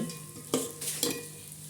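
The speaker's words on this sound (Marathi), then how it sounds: "असं लालसर छान असं हलवत राहायचं" A spoon stirs coconut, cashews and almonds roasting in a pan, with soft scraping strokes over a faint dry sizzle, close and quiet.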